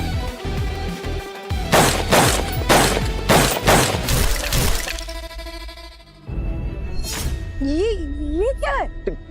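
Rapid burst of gunshots at a shooting range, loud and close with sharp cracks roughly every half second, followed by a quieter stretch, then people talking and exclaiming over the scene.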